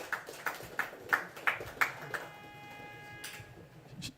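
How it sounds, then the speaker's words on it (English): A few hands clap at a bank branch launch ceremony, sharp separate claps in a quick, even rhythm for about two seconds before fading into a faint ringing tone. "please give her a big round of applause"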